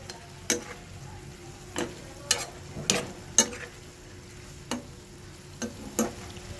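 Sliced bitter gourd being sautéed for ginisang ampalaya in a pan, with a soft steady sizzle under sharp spatula scrapes and taps that come irregularly, around ten in all.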